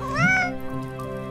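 A cat in the video game Children of Silentown gives one clear, rising and falling meow, loud and close with nothing else around it.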